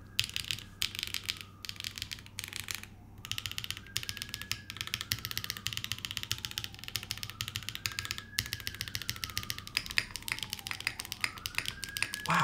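Rapid clacky keystrokes from a T9 Retro mechanical keyboard, continuous and close, with a recurring faint rising whine in the background.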